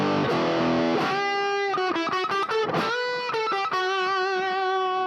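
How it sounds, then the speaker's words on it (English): Electric guitar played through an Ecstasy Red distortion pedal with no tube screamer in front, giving a loud, sustained saturated tone of ringing chords and bent notes with quick strummed attacks, continuous and alone. "so this is the sound of the Ecstasy Red"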